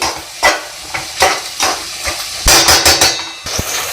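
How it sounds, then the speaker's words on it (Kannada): Ground tomato bath masala frying in hot oil in a pan, with repeated sizzling bursts and clinks of a spoon or spatula stirring at a steady, uneven rhythm, close and fairly loud, with no talking. "ಚೆನ್ನಾಗಿ ಎಣ್ಣೆಯಲ್ಲೇ ಫ್ರೈ ಆಗಲಿ ಎಣ್ಣೆ ಬಿಟ್ಕೊಳ್ಳೋವರೆಗೂ ಚೆನ್ನಾಗಿ ಫ್ರೈ ಆಗಲಿ"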